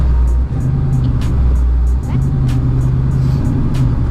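Ford Mustang GT on a 150 shot of nitrous, accelerating hard with a loud, steady low engine roar that holds throughout, briefly dipping twice.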